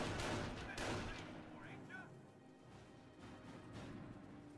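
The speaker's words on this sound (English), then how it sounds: "they are falling right into the mouth of MG fire, and whoa, those paratroopers really got punished by that MG" Machine gun fire in a strategy video game rattles in loud bursts at the start and again around the one-second mark, followed by scattered gunfire and battle noise.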